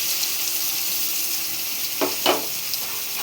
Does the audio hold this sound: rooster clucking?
no